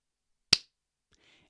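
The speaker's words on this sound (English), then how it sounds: "The first one is a clap." A single sharp hand clap rings out close and crisp, followed by a faint, brief rustle in an otherwise quiet room.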